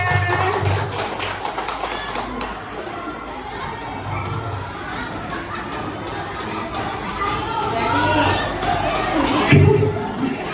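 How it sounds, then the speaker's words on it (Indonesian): An audience of teachers applauds in a classroom setting, with steady clapping mixed with crowd chatter and cheering that swells toward the end, and voices talking throughout. "Tepuk tangan untuk Bapak Ibu semuanya"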